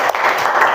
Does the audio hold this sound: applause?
yes